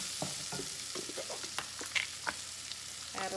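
Dominican pasta with sazon being stirred in a frying pan, a soft continuous sizzle punctuated by irregular spoon scrapes and clinks, close and without voices.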